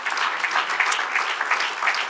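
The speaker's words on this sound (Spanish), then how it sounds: "Démosle el aplauso grande a nuestro Dios." A church congregation applauds during a worship service, a steady patter of many hands clapping together, moderately loud and continuous.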